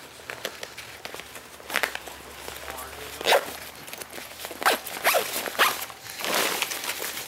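Zipper closing on a Deuter ACT Lite 40+10 backpack, the compartment zip pulled in a run of quick, close rasping strokes with short pauses between pulls.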